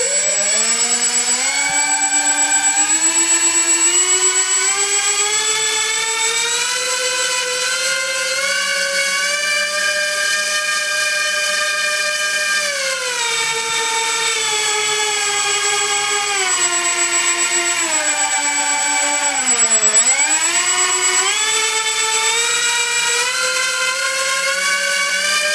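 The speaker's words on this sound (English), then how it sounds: "I'll now open up the throttles." Model Lancaster bomber engines opened to full throttle on a static lift and thrust test rig, producing a loud, steady, high-pitched propeller whine that holds for the whole stretch with a brief pitch dip late on.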